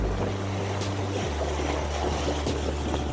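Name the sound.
boat moving through waves at about 5 knots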